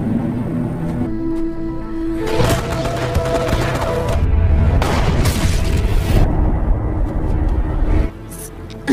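Gunfire and heavy booms in an action film shootout, dense and loud, with bursts of shots layered over a rumbling, chaotic mix that cuts off abruptly near the end.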